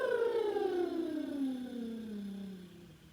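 Out-breath through vibrating lips, like a soft buzzing lip trill during a yoga session, sliding steadily downward in pitch for about three seconds. The sound is faint and continuous, with no talking over it.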